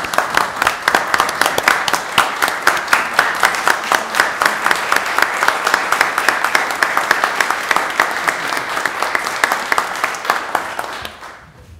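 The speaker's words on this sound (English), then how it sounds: "Let's stand and clap." A city council chamber audience rises for sustained standing applause honoring a long-serving employee, steady rhythmic clapping with some sharp individual claps carrying on for over ten seconds before tapering off.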